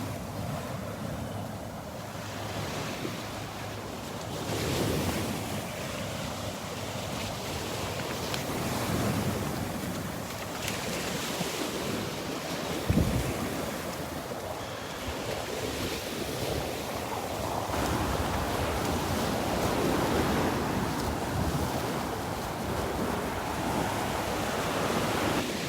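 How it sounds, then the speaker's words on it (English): Ocean waves break and wash continuously onto a sandy beach at Delnor-Wiggins on a morning walk, a steady loud surf roar mixed with wind buffeting the microphone, with no talking. "Those waves are music to my ears."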